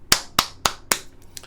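A few sharp, evenly spaced claps, four distinct hand claps followed by a fainter fifth, close and dry with no voices.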